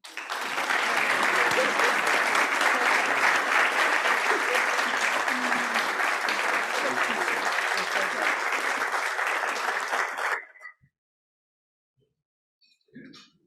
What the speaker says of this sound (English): But please join me in a round of applause in appreciation of our outgoing chairman, Barney Bishop.